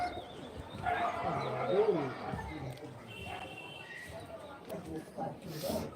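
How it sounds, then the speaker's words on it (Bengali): Pet pigeons coo close by, soft rolling calls early on, while a person talks over them. "এগুলো হচ্ছে আমার শখের পায়রা"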